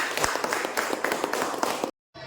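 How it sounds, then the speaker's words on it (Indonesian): Students in a classroom clap for a group in a brisk, continuous patter of hands for about two seconds before it cuts off abruptly. "kembali kita tepuk tangan untuk kelompok 3"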